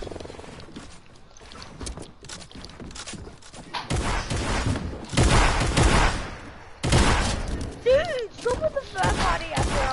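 Video game gunfire arrives in bursts of close shots, starting sparse and growing into heavy volleys after about four seconds. Brief pauses separate the volleys, and other in-game effects sound between them.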